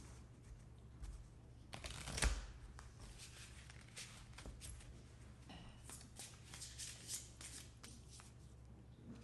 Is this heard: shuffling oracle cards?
yes